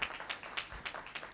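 Light, thin applause from a panel discussion audience, a scattered patter of claps, faint and distant.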